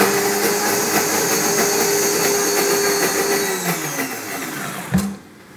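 A kitchen blender whirs steadily as it mixes mustard and egg yolks to start a mayonnaise, a loud continuous motor drone that winds down and stops with a brief clunk near the end.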